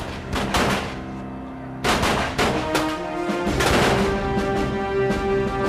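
Dense battle gunfire from a Napoleonic-era clash between French and Anglo-Portuguese lines, loud overlapping musket volleys and cracks filling the whole stretch without pause.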